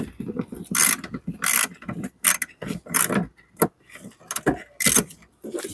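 Socket wrench working a trailer hitch bolt loose on a 2004-2010 BMW X3 E83, a string of short, sharp metallic ratchet clicks in quick irregular bursts with brief gaps, close and fairly clear.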